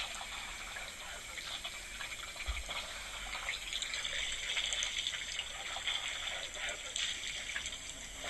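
Elephants slurp water and splash with their trunks at a waterhole in a steady, continuous wash of sloshing and gushing sounds, with a few louder splashes toward the end, heard from nearby.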